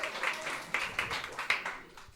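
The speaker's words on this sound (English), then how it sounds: "Round of applause for that sweet Round message." A small studio audience gives a sparse round of clapping on a podcast set, light uneven claps at close range with quiet voices underneath.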